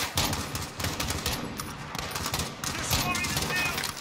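Mounted machine gun firing in the Modern Warfare campaign video game, rapid bursts of gunfire crackling densely and loudly through the whole stretch amid chaotic battle noise, with a player's voice faintly mixed in.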